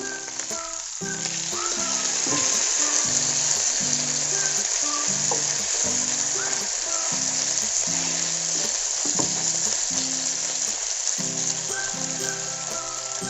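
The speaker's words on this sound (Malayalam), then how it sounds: "ബീഫ് ഒന്നുകൂടെ മറച്ചിട്ട് കൊടുക്കാം." Beef steak frying in butter and garlic in a pan, a loud, dense, continuous sizzle with faint scraping as the meat is turned and a steady tonal hum beneath.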